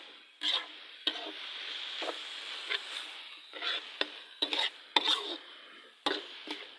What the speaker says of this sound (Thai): นี่เราเติมใบกะเพราแล้วก็ คนไปคนมาให้ใบกะเพราเราก็โหมูเขาเข้ากันทุกคน